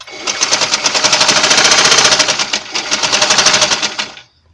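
A sewing machine driven by foot pedal runs in a fast, steady mechanical rattle of rapid stitches, slowing briefly mid-run before speeding up again and stopping.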